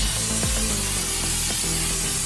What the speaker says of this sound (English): I'm going to spray the top.